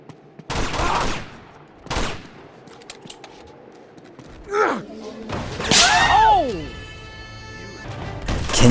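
Gunfire in Uncharted 2: Among Thieves Remastered comes in short, loud bursts spread through the stretch, with gasp-like grunts and a swelling clatter of game effects near the end.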